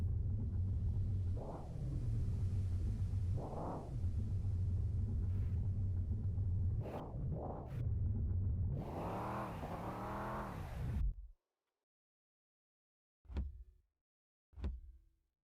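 A car engine in Mon Bazou rumbles and revs in several rising bursts while driving up onto a trailer, then cuts out abruptly into silence, followed by two short knocks.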